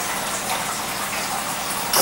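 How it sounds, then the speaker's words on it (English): A steady, hissing spray of water from a hose nozzle runs continuously at close range over a vegetable planter, ending with a brief louder splash. "Water it down really good."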